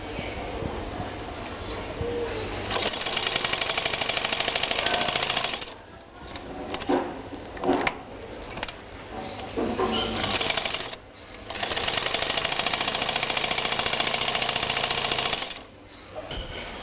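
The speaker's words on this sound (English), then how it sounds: "So you want to stitch along the lines to join them together." A sewing machine stitches a costume collar in two long, steady whirring runs of rapid mechanical clatter, separated by a stretch of shorter stop-start bursts, all close and clear.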